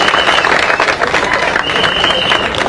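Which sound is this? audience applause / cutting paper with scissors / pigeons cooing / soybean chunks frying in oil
audience applause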